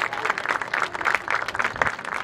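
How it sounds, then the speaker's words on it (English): An audience at a school band concert breaks into applause, a dense and fairly loud clatter of many hands with uneven swells, heard on its own without talk. "I will give them a round of applause in spirit."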